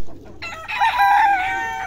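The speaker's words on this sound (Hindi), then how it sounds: "मुर्गे बहुत ज़्यादा हो गए हैं, मुर्गियाँ थोड़ी हैं" Roosters crow loudly and close on a farm where cockerels far outnumber hens, one long crow rising and holding over a background of clucking chickens.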